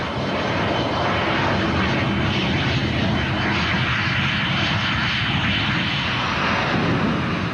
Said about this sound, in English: England's first jet fighter to enter service, the Gloucester Meteor.